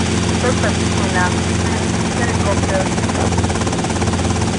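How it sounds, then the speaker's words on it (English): A helicopter in GTA Vice City drones with a loud, constant rotor thrum and engine hum, filling the whole stretch while radio-style police dispatch voices talk over it. "Helicopter."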